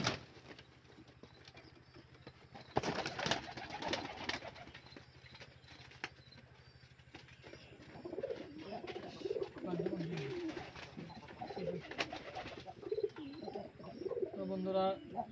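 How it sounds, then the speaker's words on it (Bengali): A spotted dove cooing inside a pigeon farm, a soft repeated call heard at close range, with rustling and handling noise and someone talking over part of it. "আমার এখানে খামারে আছে একটা গুগু পাখি"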